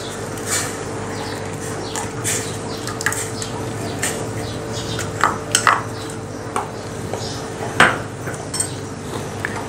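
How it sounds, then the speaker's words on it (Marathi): A spoon stirs ragi (finger millet) flour porridge in a pot, giving light scraping clinks and taps against the metal at an irregular pace, with no voices. "चमच्याने थोडंसं तळापासून असं हलवून घ्या आणि थोडं थोडं यामध्ये घालायचं आहे"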